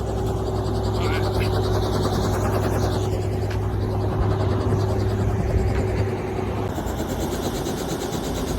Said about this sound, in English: There is a helicopter over there.